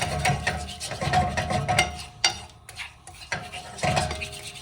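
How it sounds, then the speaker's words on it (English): Beaten eggs being stirred in a pan for a French omelet, with uneven scraping and clinking of a utensil against the pan over a faint sizzle, close by, no speech. "You just really start mixing it in, and the goal is to minimize how much of the egg is setting."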